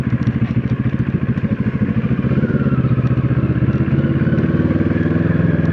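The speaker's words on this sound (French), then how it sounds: "Et il y a quand même des motos qui se promènent aussi." Motorcycles rolling through a sunny harbor village, their loud, close engines pulsing with a rapid throbbing beat and crackling as they pass, alone without speech.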